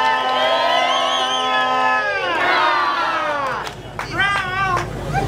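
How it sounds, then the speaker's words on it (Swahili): A large crowd at an open-air political rally cheers and shouts loudly and continuously, excited voices rising and overlapping in a dense roar with scattered clapping. "Piga makofi kwa Dr. Samia Suluhu Hassan."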